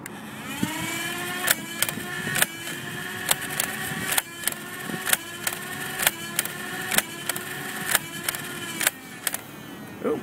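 A modded motorized Nerf N-Strike Elite Stockade blaster whirs steadily while firing darts in a rapid series of sharp, evenly spaced clicks and thumps, close and alone.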